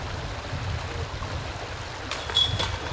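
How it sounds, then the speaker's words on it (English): Small creek flowing beside a disc golf basket on an outdoor course, a steady soft rushing trickle heard alone at a moderate distance, with a short brighter clink near the end. "And here we see where KG went OB in a little creek right next to the basket"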